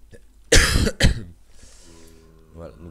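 A person who is a little ill gives two loud, harsh coughs in quick succession, close to the microphone, followed by a quieter throaty sound.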